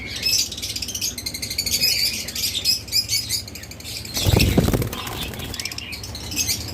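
Caged lovebirds, cockatiels and budgerigars at a bird seller's keep up a busy chatter of high chirps, with a loud burst of wing flapping midway.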